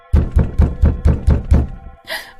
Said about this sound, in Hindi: फिर कुछ देर बाद फिर से कोई खिड़की खटखटाने लगता है।